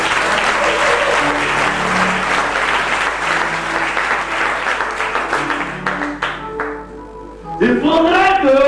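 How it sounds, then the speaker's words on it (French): Sustained applause from an audience at a national convention in Daloa, loud dense clapping that fades slightly near the end before voices and cheering rise. "Si vous croyez, vous acclamez."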